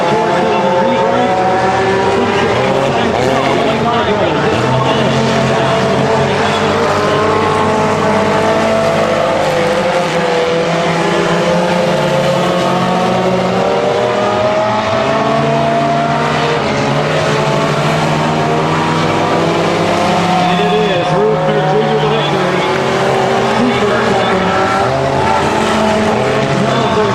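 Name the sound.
four-cylinder race cars in a speedway heat race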